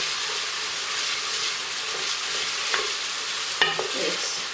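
Sucuk sausage and beans sizzle and roast in a hot pan, a steady broadband crackle throughout with a couple of sharp clinks of a utensil near the end.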